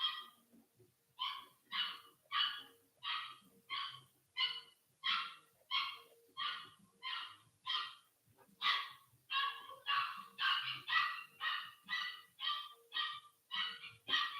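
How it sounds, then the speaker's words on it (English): A toy poodle puppy screams in the background with about twenty shrill, evenly spaced yelps in a steady rhythm, each under a second long. The cries sound muffled and fairly distant, as if from another room. "you're about to hear my puppy in the background. He screams. Toy poodle."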